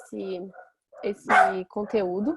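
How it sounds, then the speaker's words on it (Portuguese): A dog barks a few times at home, sharp yelps mixed in with a person talking steadily nearby. "tem um cachorro latindo"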